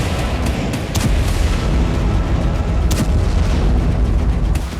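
Rocket attacks on residential areas of northern Israel: a loud, continuous rumbling roar of explosions and blasts, with several sharper booms standing out around the first and third seconds.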